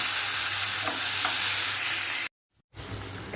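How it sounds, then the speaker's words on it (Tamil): Chopped tomatoes dropped into hot oil with dried red chillies hiss in a loud, close, continuous sizzle while being stirred, then break off into brief silence before the frying resumes. "கட் பண்ணி வச்சுக்கிற தக்காளி ஆட் பண்ணிக்கலாம்."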